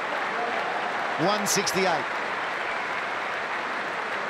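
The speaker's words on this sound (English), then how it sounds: "they're on their feet cheering him off the ground too, so an appreciative crowd here." A cricket crowd applauds Jonathan Trott's unbeaten Boxing Day century, a steady wash of distant clapping and cheering beneath a commentator's voice.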